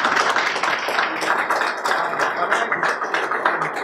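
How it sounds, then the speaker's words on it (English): Audience at a round table discussion on Nigerian port services claps for the panel, a dense, steady patter of many hands, loud and close, continuing throughout. "Please, can we have a round of applause,"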